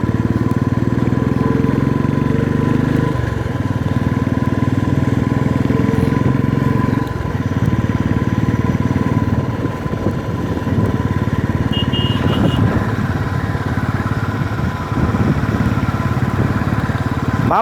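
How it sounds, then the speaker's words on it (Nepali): Motorbike engine running with a failing engine that is pouring out smoke, a loud unbroken close-up drone that continues throughout with slight wavering. "मामा तपाईँको बाइकको इन्जिन गएछ"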